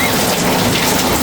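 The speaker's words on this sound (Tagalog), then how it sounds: "Lagi na lang umuulan." Heavy rain falling, a loud, dense, continuous hiss and patter close by, with no other sound breaking through.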